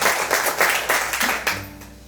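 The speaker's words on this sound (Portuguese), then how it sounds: "Vamos dar uma salva de palmas para isso" A church congregation claps during a Portuguese-language sermon, loud dense applause in overlapping waves that thins out toward the end, with a low hum underneath.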